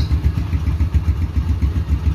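A Yamaha Scorpio Z motorcycle engine idles steadily up close, with a smooth, low, evenly pulsing rumble and light mechanical clatter, with no one talking.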